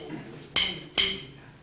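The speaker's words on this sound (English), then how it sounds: "And the son clave goes." Two sharp, bright wooden clicks from claves struck at an Afro-Cuban percussion clinic, close and dry, about half a second apart with quiet between them.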